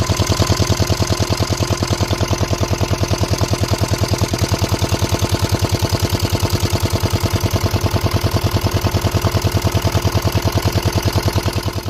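A boat's motor on the Bidyadhari river in the Sundarbans runs steadily with a fast, even low throb, close and loud, holding the same pace throughout with no talk.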